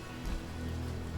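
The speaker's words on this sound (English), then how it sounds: "Just cast rain on them real quick," Rain spell pattering down in Divinity: Original Sin Enhanced Edition, a brief steady patter of falling water over a low hum, loud and close throughout.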